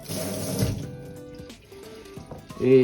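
Tap water runs steadily into a sink while celery stalks are rinsed, a continuous splashing flow with handling sounds and a brief clatter near the end, no talking.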